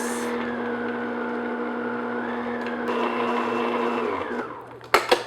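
An electric mixer works flour and milk into cake batter for raspberry ice cream cakes. It hums steadily, close by, with a slight pitch shift midway, then stops with a few knocks of the beaters.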